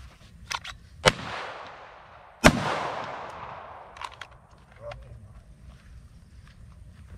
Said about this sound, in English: Shooter's ready? Ready. Fire.